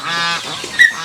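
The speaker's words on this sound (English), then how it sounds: "now the ducks are going in. And the ducks are fighting the dogs." Ducks honk and squawk loudly at close range while scrapping with dogs over a meal of rice and sauce, with one harsh call followed by a sharper, higher squawk.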